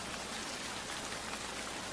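Heavy rain falls in a continuous, even hiss of dense drops, soft and steady throughout with no voices.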